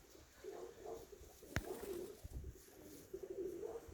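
Racing pigeons in a flock coming up in 11 m/s wind coo softly and intermittently at moderate distance, mixed with wind and a sharp knock, with no talking.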